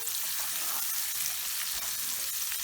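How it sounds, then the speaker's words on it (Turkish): Butter melts and is stirred in a pan for a Snickers cake, giving a steady, continuous sizzle with faint scraping of stirring throughout, close and even in level with no talk. "hemen tereyağını ilave edin ve eriyene kadar karıştırmaya devam edelim"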